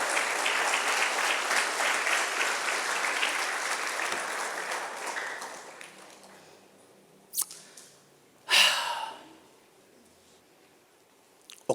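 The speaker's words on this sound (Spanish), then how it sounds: "Dale una ofrenda de palmas al Rey de Reyes." Church congregation applause, a dense sustained clapping that fills the first half and then fades out, followed by a few isolated sharp claps and brief noises.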